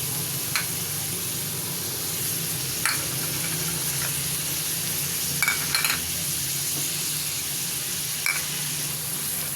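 Spices and tomato paste sizzle and fry in a pan for a Lahori-style chickpea curry, a steady close hiss with occasional stirring clicks and scrapes, no talking.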